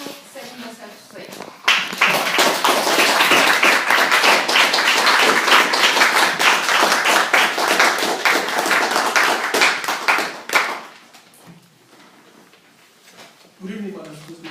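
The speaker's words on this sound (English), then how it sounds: "Alors, est-ce que je peux vous permettre d'applaudir très fortement pour Ed Cousville" Audience applause at a Toastmasters-style speaking club evening follows a speech, a dense burst of clapping lasting several seconds and then fading, with a brief announcer's voice before it and talk returning at the end.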